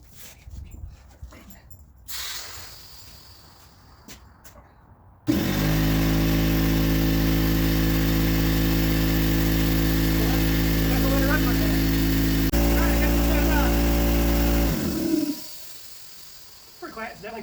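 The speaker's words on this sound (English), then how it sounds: "open up the drain plug fully and turn on the compressor, run it for 30 minutes for break-in time" A McGraw 21-gallon oil-free air compressor from Harbor Freight starts abruptly and runs with a loud, steady motor drone for about ten seconds, then cuts off; scattered handling noises precede and follow it.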